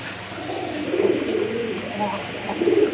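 Rajgolla pigeons coo in soft, low repeated calls close by, rising and falling over light background noise.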